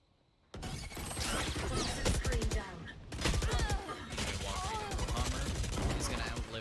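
Rapid gunfire bursts and shots in a competitive esports match, with a headshot landing amid a busy, loud mix of game effects and commentary-style talk throughout.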